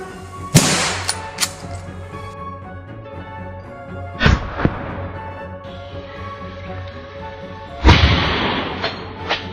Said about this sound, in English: raised his rifle, locked onto the target, and pulled the trigger.